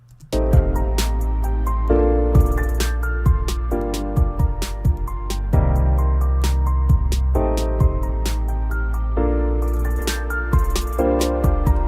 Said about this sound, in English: Instantly, I already have higher bass on my tracks.